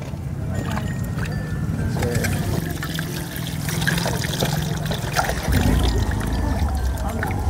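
Fresh fish from a fish market is washed under a running tap, with steady splashing water and handling noises close by, continuous and moderately loud, with faint voices in the background.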